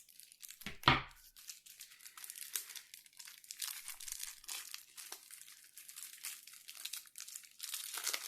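A sharp cut and tear through the plastic wrap of a Colossus card pack from a Marvel Champions card game expansion, followed by steady close crinkling of the plastic as it is pulled open.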